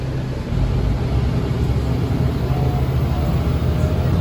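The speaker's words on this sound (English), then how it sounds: "every time this bus like accelerates and starts going fast, it's like a really high-pitched sound that's kind of unpleasant" A CUMTD city bus picks up speed, its steady interior rumble carrying a thin, high-pitched whine above it. The sound is loud and continuous, with no one talking.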